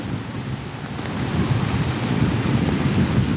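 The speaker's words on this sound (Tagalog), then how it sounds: "Makikita nyo naman sa ating harapan na talagang nagngangalit po ang ating karagatan dito." Rough sea pounding the shore at Nato Port in Sagñay, Camarines Sur during a storm surge, a heavy continuous roar of surf mixed with buffeting wind on the microphone, growing a little louder partway through, with no voices.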